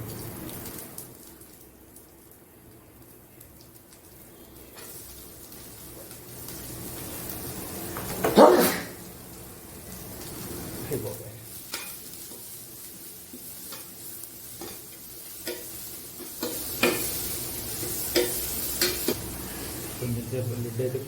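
Chopped onion sizzles in a pan for a Chettinad chicken curry, a continuous soft crackle and hiss with occasional stirring scrapes and clatter, close by and moderately loud, without speech.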